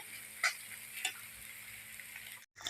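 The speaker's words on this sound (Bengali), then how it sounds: "এই যে এদিকে পনিরটা কষানো হচ্ছে" Paneer with garam masala being stirred and sautéed in a pan, a soft steady sizzle with two brief louder scrapes of the spoon, close and alone, cutting out abruptly near the end.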